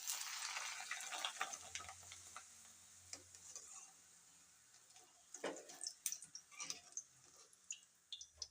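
Papad dropped into hot oil in a home kitchen, giving a fairly quiet, crackling sizzle with scattered sharp pops and stirring clicks that grow busier toward the end, with no voices.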